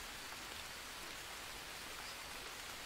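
Steady rain hisses and patters softly and evenly throughout, a faint, continuous wash of falling drops in the jungle survival game Green Hell.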